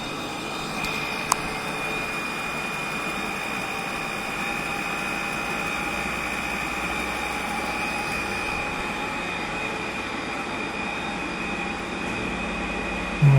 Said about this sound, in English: it's pleasure to hear this sound and the motor picking up speed